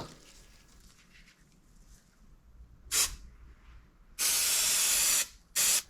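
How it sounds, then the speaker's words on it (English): Loud bursts of aerosol upholstery adhesive spraying onto car windshield pillars: a short hiss, then a long sustained spray and a final quick burst, close by against quiet room noise. "This stuff is spraying like a web of adhesive."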